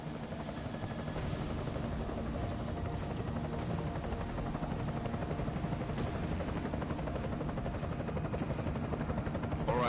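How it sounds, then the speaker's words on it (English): Enemy helicopter in the Deus Ex video game, a steady rotor drone with low thudding blade chop holding at an even level throughout, no talk over it. "Enemy helo sighted."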